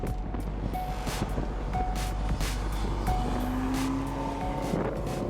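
A 2016 Ferrari California T with its twin-turbo V8 drives by on the road, a steady engine drone with brief tire noise and a faint tonal whine, continuous and fairly close.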